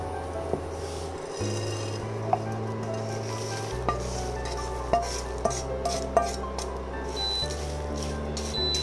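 Idli podi ingredients being sautéed in a pan, with steady scraping and rubbing strokes of a spatula and a few sharp clinks against the metal, over a low constant hum.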